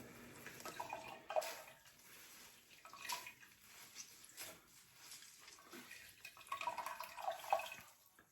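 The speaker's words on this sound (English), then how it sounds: "Yeah, there's definitely liquid coming through." Inky black all-grain sweet porter beer wort draining through a strainer into a pan, a soft intermittent trickle and drip of liquid with splashy bursts, close and fairly quiet.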